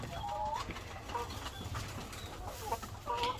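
Egg-laying hens cluck and squawk in short overlapping bursts, fairly close, over a low steady background hum of the farm.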